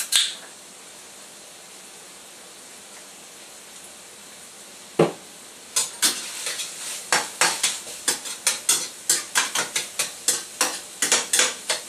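Hamburger Helper beef browning in a pan, a steady soft sizzle broken by a sharp clank, then a rhythmic series of utensil scrapes and taps against the pan as the food is stirred close by.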